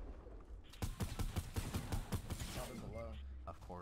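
Sniper shots in Fortnite arrive as a quick run of sharp, rhythmic cracks in the middle of the stretch, heard under a player's talking.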